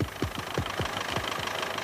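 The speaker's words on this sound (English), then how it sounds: "That's a tractor, said Hi-Fi. It's ploughing off a field." A tractor ploughing a field chugs with a steady rhythmic engine knock, about four beats per second, close and moderately loud with broad mechanical noise, in a cartoon scene.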